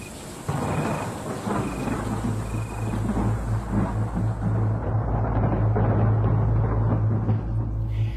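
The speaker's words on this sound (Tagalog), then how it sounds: "malakas na kulog at kidlat" Heavy rain pours steadily while deep thunder rumbles and rolls loudly, with a low sustained growl running through the whole storm.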